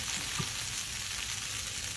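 Ground meat sizzles in a pan with enchilada sauce, a steady close hiss of frying without talk.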